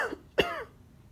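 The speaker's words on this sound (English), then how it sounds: "I'm going to have the patient cough a couple of times" A patient coughs during a medical examination, a single sharp, close cough preceded by a brief throat-clearing sound, alone in a quiet room.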